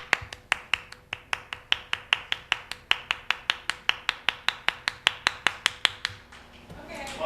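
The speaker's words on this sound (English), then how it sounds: "I'd like you, in fact, to clap 32 times in a manner exactly similar to this." One person clapping in a steady rhythmic demonstration, about thirty sharp, evenly spaced claps in close succession, followed by a brief voice at the end.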